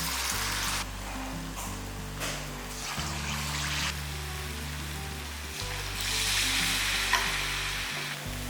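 Susiyam dumplings dipped in batter fry in hot oil with a loud, steady sizzle and bubbling crackle, close up, swelling louder toward the end with no speech.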